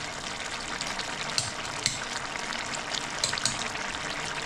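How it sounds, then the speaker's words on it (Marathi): A red bean vegetable dish cooks in a pan with a steady, close sizzle and a few faint clicks from stirring. "शिजायला लागली आता आपली भाजी।"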